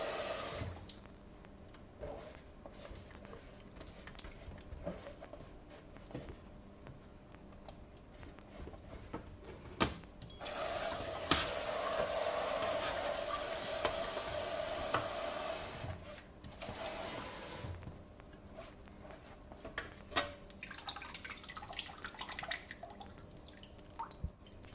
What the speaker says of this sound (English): press the beans through using a spatula. You can add water to help it go through.